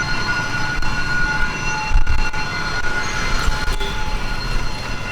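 A train rolls through a railway crossing in District 3 of Saigon, a loud steady rumble of wheels on track with faint squeals and clanks, close by and continuous.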